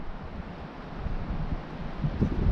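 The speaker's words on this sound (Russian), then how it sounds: "Этот вообще ураганной силы ветер." Hurricane-force wind roars across an open taiga lake, a dense continuous rumble that swells slightly toward the end, with no talking.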